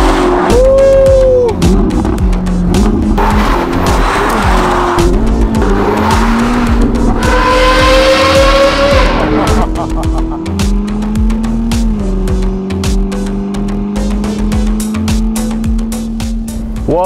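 Novitec-tuned Ferrari SF90 Spider with sport exhaust, loud engine revving and rising tones, with tire squeal and roaring acceleration passes across the whole stretch.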